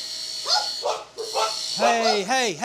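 Dogs bark and yelp in a wood shop, several sharp barks followed by rising, howling whines, fairly close over a constant background hum.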